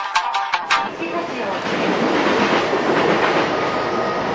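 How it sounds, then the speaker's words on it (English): A commuter train bound for Nagoya runs on its rails in Japan, with a steady loud rumble and rail clatter throughout, preceded by a few brief clicks at the start. "This is a 2-on-1 train for Nagoya."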